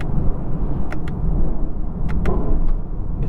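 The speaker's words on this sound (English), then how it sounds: "echoey, bassy V8 noise" A Lexus LC 500's V8 engine gives a deep, bassy, echoing rumble close by, rising in a short rev with a few sharp crackles or pops over a steady low drone.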